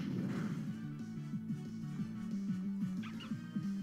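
A Lillipup's cry from the game Pokémon Sun, short yappy puppy-like calls sounding during a battle over steady looping game music.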